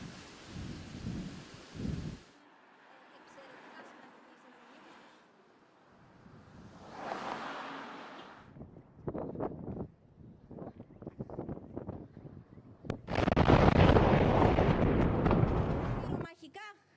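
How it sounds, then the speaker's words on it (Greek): Aircraft munitions exploding in a fire at the 111 Combat Wing air base: heavy booming blasts rumble and crackle at a distance, separated by quieter stretches with voices, ending in a long roaring burst. "Ακούγονται πάρα πολλές εκρήξεις. Πυρομαγικά της 111 από τα αεροπλάνα."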